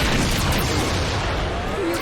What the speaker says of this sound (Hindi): इस स्क्विड्रल में धमाका होने वाला है।